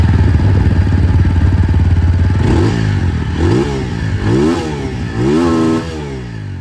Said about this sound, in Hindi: आवाज़ आप लोग पहले अपाचे 200 4V की सुन लीजिए।